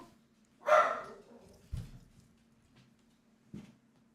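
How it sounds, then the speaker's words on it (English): A single loud, sharp dog bark bursts out close by, followed by a couple of dull thumps in a quiet indoor room with a low steady hum underneath. "that felt like a very loud dog bark"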